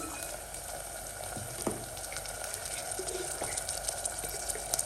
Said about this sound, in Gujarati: હવે આપણે ડુંગળીને છે એ થોડી વાર માટે સાંતળવા દઈએ